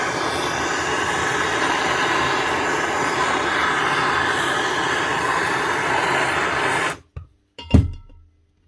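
A blowtorch heating an aluminium part of a broken Bosch GSH 5 CE demolition hammer, a loud steady roaring hiss that cuts off abruptly near the end, followed by a few brief clunks.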